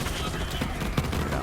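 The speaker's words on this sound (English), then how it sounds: "This gun's really good. High fire rate, good damage, comes on all the elements." Rapid gunfire from the Kaoson gun in the video game Borderlands 3, a quick rattling burst of shots layered with game effects, with a voice talking over it.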